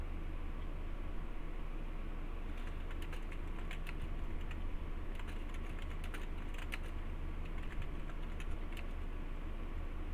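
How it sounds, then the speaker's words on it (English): Quiet typing on a computer keyboard comes in irregular bursts of light clicks in the middle stretch, set against a steady low background hiss with no speech. "Sorry, just typing."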